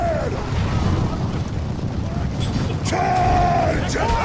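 Massed volley fire on a Conqueror's Blade battlefield rumbles as a dense, continuous roll of distant shots and booms under battle noise, with shouted commands and voices breaking through.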